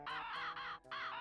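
A hungry bird in Banjo-Kazooie caws repeatedly in bright, squawking bursts, three calls in quick succession with a brief gap before the last, heard alone and up close.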